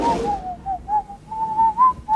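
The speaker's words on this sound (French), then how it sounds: "On n'entre pas dans un bureau administratif en sifflotant." A person whistles a tune alone: clear, bright notes in a short wavering melody of several separate pitches, close and fairly loud.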